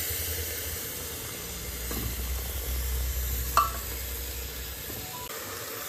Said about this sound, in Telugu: ఇప్పుడు మటన్ తలకాయ పీసులు వేసుకున్నాం.